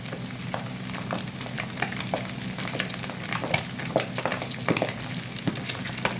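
Watery pork fatback frying in a pan while making torresmo, a steady crackling sizzle with frequent sharp pops and spatters, close and continuous with no talking.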